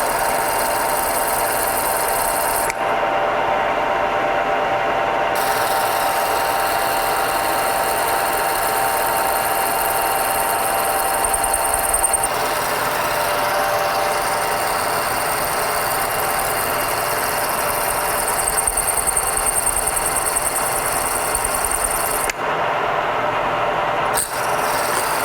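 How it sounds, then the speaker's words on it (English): An 11/32 drill bit boring holes about half to three-quarters of an inch deep into a lathe tailstock, a steady loud machine drone running continuously with slight shifts in pitch and no talking. "I'm going to come back in with an 11/32 drill bit and drill down just like a 1/2 inch, maybe 3/4"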